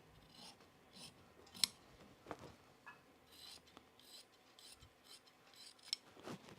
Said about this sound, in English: And then let's cut this. I'm cutting other fabric.